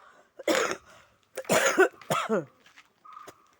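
Three harsh coughs close by, spaced about a second apart, followed by a faint short tone.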